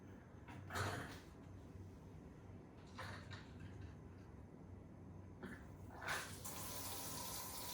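Water running from a kitchen tap after a new tap fitting, a faint steady hiss broken by a few brief louder bursts as the flow is adjusted, quiet and close with no talking.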